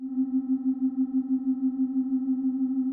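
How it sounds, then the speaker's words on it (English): A steady synthesized sine-wave tone in the Serum synthesizer, detuned by a noise oscillator, with a buzzy, slightly rough edge, held evenly at moderate volume with a faint wavering texture throughout. "I could detune my sine wave using the noise oscillator"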